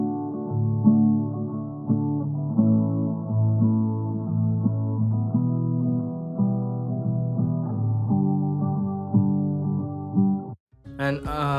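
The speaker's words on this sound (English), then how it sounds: "I also EQ'd the guitar in such a way that it sounds a bit laid back in the mix" A saturated, EQ'd guitar stem sits laid back in a pop mix, playing sustained warm chords that blend smoothly for about ten seconds before stopping abruptly, followed by a brief bright burst.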